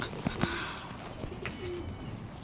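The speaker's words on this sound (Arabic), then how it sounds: "شوف الحمام ولا يخافن" Pigeons coo softly in a rebuilt bird sanctuary, a few low repeated calls rising over a steady background hum, close by and alone without talk.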